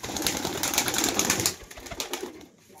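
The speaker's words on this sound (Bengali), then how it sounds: "এই দেখেন আমার বাড়ির একটা ম্যাট্রাস পায়রা" A home-bred pigeon, a cross between a mattress pigeon and a local breed, coos in soft repeated phrases close by, louder at first and then fading to quiet at the end.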